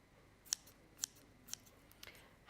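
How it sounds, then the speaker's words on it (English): Sharp scissors snip through ribbon in four crisp, evenly spaced cuts about half a second apart, close and quiet against a still background. "Not all scissors cut to the very tip."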